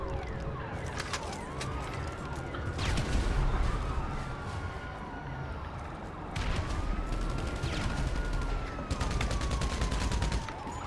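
Gunfire from GTA V Online against police, with bursts of shots over wailing police sirens that sweep up and down, a dense, fairly faint mix of game sounds that grows busier toward the end.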